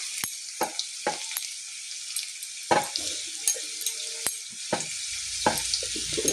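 Cumin and chili powder fry in hot oil in a pan with garlic, onion, bay leaf and garam masala, giving a bright, continuous sizzle punctuated by repeated sharp clicks and scrapes of stirring.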